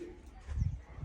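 A jumbo-sized racing pigeon gives a short low coo, a single soft throaty burst heard close by and faint, with a little background noise around it.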